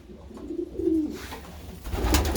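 Pigeons in a loft coo softly through a short stretch, a low, rounded call swelling and fading in the foreground with faint rustling around it.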